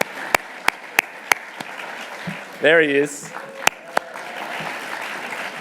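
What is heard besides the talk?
audience applause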